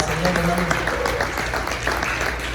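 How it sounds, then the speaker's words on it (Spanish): A church congregation breaks into applause during a sermon, a steady wash of clapping from many hands under the preacher's voice, which carries on over it. "Dele una ofrenda de palmas al Señor, hermanos"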